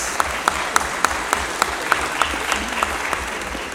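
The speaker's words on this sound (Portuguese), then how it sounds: "Peço também uma salva de palmas para Maria Lúcia, irmã do Sig, e José Carlos" An audience at a tribute ceremony claps steadily and fairly loudly, with sharper individual claps standing out at a regular pulse over the dense applause.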